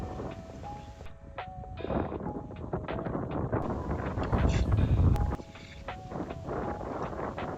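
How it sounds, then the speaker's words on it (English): Steady gusty wind buffets the microphone throughout on a golf course at Cochecho Country Club, with rumbling low noise and scattered faint background sounds. "In the audio, you can hear how windy it is here."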